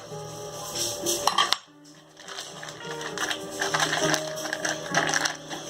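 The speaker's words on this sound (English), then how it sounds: "I'm going to cut this into cubics as well. Kind of mix it in with the butter." Cream cheese is cut into cubes and mixed with butter in a home kitchen, giving a run of close, busy clinks and clatters of a utensil against a dish, with a short pause midway before the clattering resumes.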